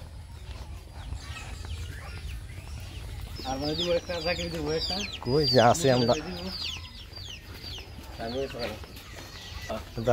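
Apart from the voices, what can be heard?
chickens clucking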